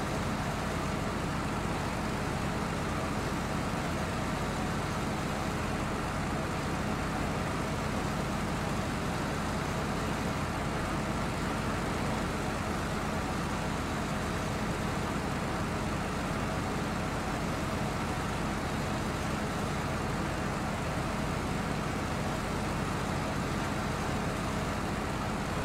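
A Kenworth truck engine droning while the truck drives through a flood area in SnowRunner, a continuous steady rumble with road and motor noise for the whole stretch, even in level and free of talk.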